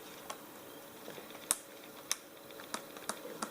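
Pages of a Wipebook mini erasable notebook snap back into the binding one by one, with sharp, close, separate clicks spaced irregularly against a quiet background.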